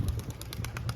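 Racing pigeons coo close by in a loft, a steady rhythmic series of soft low coos with wing flutter and light chirps over the top.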